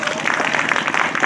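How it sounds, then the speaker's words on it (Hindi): An audience in a hall breaks into a short burst of clapping, a dense crowd of claps heard close and fairly loud, lasting only a moment. "जब हम हेलो बोलेंगे तो आपको एक बार ताली बजानी है"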